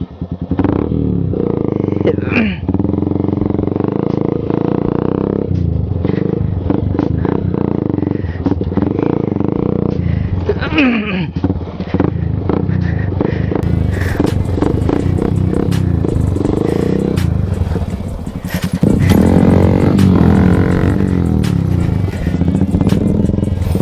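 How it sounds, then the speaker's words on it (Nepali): A motorcycle descends a challenging jungle trail, its engine loud and close, rising and falling as the throttle changes, with rattles, clatter and scrapes over rough ground; voices speak briefly over the engine. "अब म चाहिँ च्यालेन्ज एक्सेप्ट गरेर चाहिँ म तल बाइकलाई लिँदैछु"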